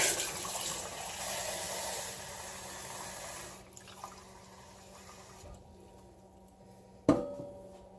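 Tap water runs steadily into a container for bread dough, a soft continuous flow that fades and stops, followed by a single sharp clunk.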